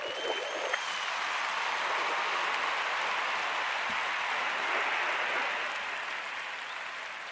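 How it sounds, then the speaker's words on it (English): A canned round of applause plays during a live football transfer-talk stream, a steady wash of clapping and cheering that swells, holds evenly for several seconds, then fades slightly at the end. "Give you a round of applause"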